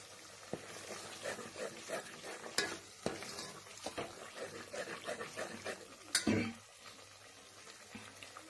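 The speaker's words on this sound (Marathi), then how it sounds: "बऱ्यापैकी आपला मसाला चांगला तळला गेलेला आहे" Masala spice paste for a village-style mutton curry fries quietly in a pan, a soft sizzle broken by stirring scrapes and a few louder clanks against the metal, fairly faint and close.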